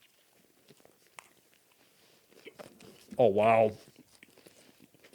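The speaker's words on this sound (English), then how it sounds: "here's a compilation of all the chewing noises that you previously missed" Close, soft chewing and biting while eating sandwiches comes as scattered small crunches and clicks, briefly interrupted by a short spoken exclamation.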